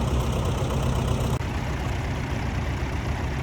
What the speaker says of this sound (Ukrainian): Зараз тут катком працюють, рубищем перебивають залишки